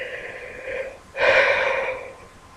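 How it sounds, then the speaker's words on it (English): Person yawning, a drawn-out open-mouthed inhale that rises into a louder airy yawn and then trails off, close and alone. "I'm sorry I'm yawning so much."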